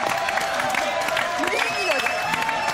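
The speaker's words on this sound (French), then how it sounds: "allez on applaudit s'il vous plaît" Studio audience applause on a French television entertainment show, a steady dense clapping with light cheering that holds evenly through the short stretch, with a host's voice and music over it.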